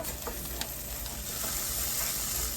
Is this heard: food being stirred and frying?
yes